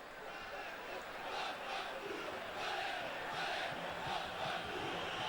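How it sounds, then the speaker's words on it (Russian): Inter Milan supporters in the stands during an away match at Palermo, a distant, sustained stadium crowd chant that swells in rhythmic waves, with a commentator's voice speaking over it. "Ну вот слышны болельщики Интера."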